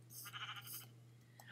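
A sheep in the video game Minecraft bleats in a short, wavering cry, repeated in two or three quick pulses at moderate loudness over a steady low background hum.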